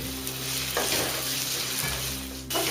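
Potatoes and carrots fry in oil for a mixed vegetable sabzi, giving a loud, steady sizzle that fills the whole stretch with a low hum beneath it and no voices.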